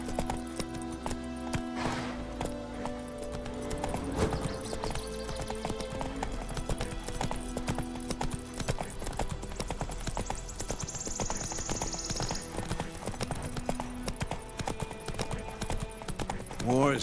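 Horse hooves clip-clop through The Witcher 3 in a steady trotting rhythm, mid-distance, under game music and ambient sound, with characters talking over parts of it.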